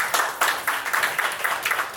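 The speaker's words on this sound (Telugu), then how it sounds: "అందరు క్లాప్స్ కొట్టండి." An audience claps at a pre-wedding ceremony: a quick, uneven run of hand claps repeating over two seconds, fairly close and with no voice above it.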